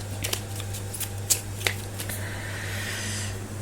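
A card is drawn from an oracle deck: close, crisp snaps and papery flicks of the cards, a few sharp taps in quick succession, then a softer rustle, all over a low steady hum.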